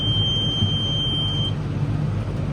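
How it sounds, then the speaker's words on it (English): A farm tractor tedding grass sounds a high warning beep in pulsing bursts for about a second and a half, then the beep stops and only the low, steady engine drone continues. "Sorry, it's beeping at me, this tractor."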